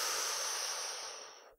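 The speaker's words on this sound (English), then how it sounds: "Now we're going to breathe in using our stomach." A single deep stomach breath in, as practised for tin whistle playing: a steady, close, airy inhalation lasting over a second and fading at the end, no talk.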